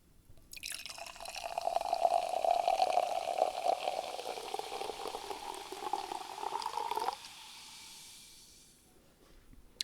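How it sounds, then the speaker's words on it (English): Hard seltzer pours from a can into a glass, a sustained gurgling, fizzing stream for several seconds that cuts off abruptly and leaves a faint hiss of bubbles. "I'm going to pour it into a glass, Kyle."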